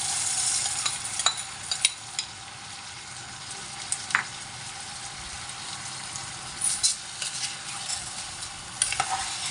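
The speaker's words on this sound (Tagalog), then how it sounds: "ilagay na natin yung ating munggo." Mung beans tipped into a hot pan, giving a steady frying sizzle under scattered scraping stir strokes and a few sharp clicks, close and moderately loud throughout.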